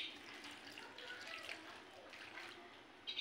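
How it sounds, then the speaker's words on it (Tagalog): Water pours and splashes steadily into a cooking pot, soft and close, a continuous trickling rush with no talking. "Lagyan natin ng tubig."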